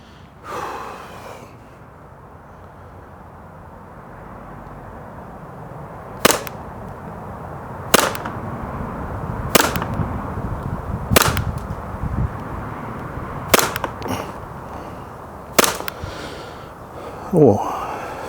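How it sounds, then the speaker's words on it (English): A Springfield XDM pistol fires at a target 7 yards away. Seven sharp, loud single shots come at irregular intervals of one to two seconds, with breathing and low handling noise between them. "see exactly how accurate this pistol is"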